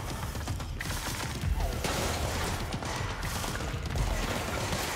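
Enemy gunfire in the action game Control: dense, continuous shooting and impacts mixed with mechanical clatter, loud and sustained throughout.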